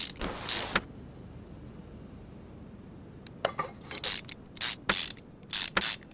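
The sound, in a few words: ratchet tightening screws in Car Mechanic Simulator 2021 video game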